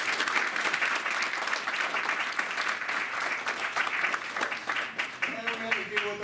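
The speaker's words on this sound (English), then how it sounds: "please give the Patriotic Committee a nice round of applause" An audience at an indoor Veterans Day ceremony gives sustained applause, dense and steady clapping that fills the room before tapering off near the end.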